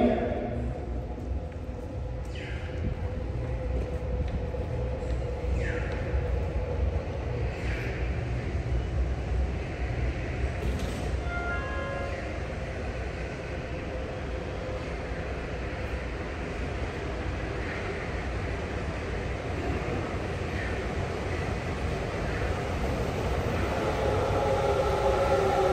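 A subway train pulls into platform 1 at Asabu Station, bound for Makomanai, during a track-renewal works period, a long steady rumble filling the platform with faint chimes and recorded announcements over it.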